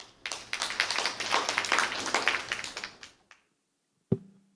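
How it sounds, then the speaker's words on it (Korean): An academic conference audience clapping in a dense burst of applause for a speaker's introduction for about three seconds, fading out, then a single loud knock. "큰 박수 부탁드립니다."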